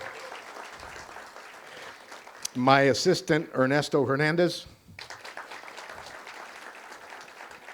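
Applause at a police awards banquet, a continuous spread of clapping from the audience running beneath a man announcing a name over a microphone.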